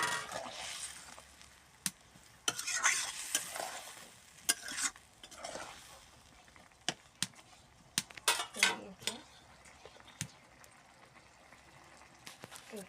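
Fried flat beans stirred into a simmering curry gravy in a pot; a metal spoon clanks and scrapes against the pan in repeated sharp knocks over a soft, steady sizzle and bubble, with no talking.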